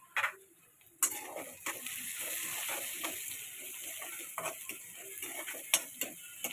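Onions frying in a pan with salt and half a spoon of turmeric for a beans and potato curry, giving a steady close sizzle broken by irregular scraping and ticking stirs.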